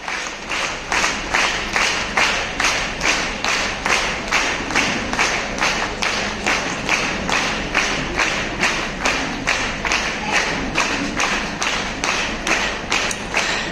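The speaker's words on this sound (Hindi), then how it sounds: "जोरदार ताली बजना चाहिए" A crowd at a silver jubilee celebration claps in strong unison, a loud, steady rhythmic beat of hands repeating about twice per second for over ten seconds with no voices on top.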